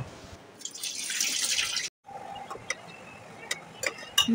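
Chopped vegetables for a curry, such as potato, pointed gourd, carrot, ridge gourd and papaya, are rinsed in water, with a steady splashing wash, then a pause and scattered drips and clinks. A voice murmurs faintly.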